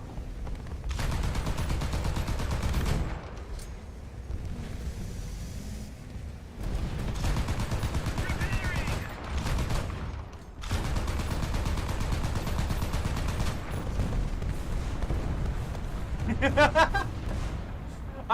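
Machine gun fire in the War Thunder video game: long bursts of rapid shots broken by short pauses, loud and close, with a voice talking over parts of it.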